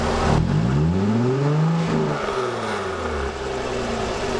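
A 2016 Jaguar F-Type engine revs up, sweeps through a deep exhaust rumble in standard exhaust mode, then settles back down, loud and close with no voices.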